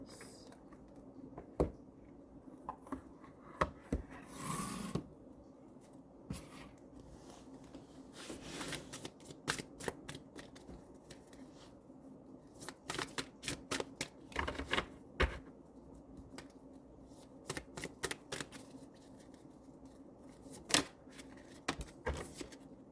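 Fairy tale oracle cards shuffled by hand, a run of soft papery riffles and flicks with sharp taps scattered through, quiet and close with no talk.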